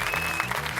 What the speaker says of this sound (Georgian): აპლოდისმენტები.